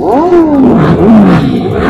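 A motorcycle engine at a bikers' gathering gives a short, loud rev that swoops up and falls away in under two seconds, heard close and with no talking.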